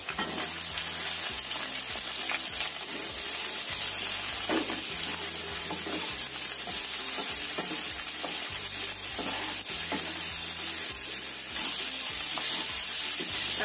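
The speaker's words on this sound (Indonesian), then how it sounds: "Kita goreng sampai layu aja ya terongnya, nggak terlalu matang" Eggplant frying in hot oil until just wilted, a steady close sizzle that covers the whole span, with the scrape and clack of a stirring utensil against the pan returning in a regular rhythm.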